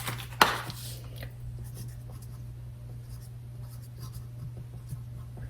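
A pen scratches a date onto a freezer-safe plastic bag of squash, faint and soft after a sharp tap at the start, over a steady low hum in a quiet kitchen.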